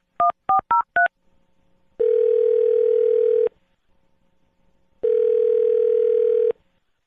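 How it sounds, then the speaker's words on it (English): Telephone keypad dialing: four quick touch-tone beeps, then two long loud ringback tones separated by silence, alone without talk. "I'm going to dial this phone right now"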